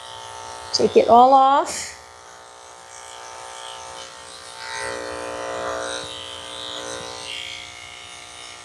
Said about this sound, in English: I'm going to shave her all down.